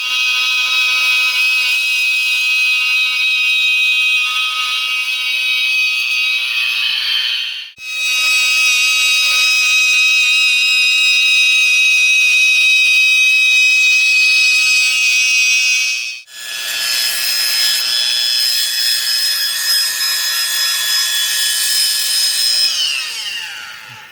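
Lapidary machine polishing stone with soft diamond grit pads, a steady high whine running loud and continuous in three long stretches separated by two brief pauses, with no talking.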